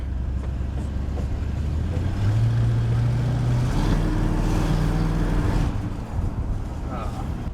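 A Ford Ranchero with a Holley carburetor accelerates on a road, its engine note rising steadily from inside the cab, loud and continuous throughout.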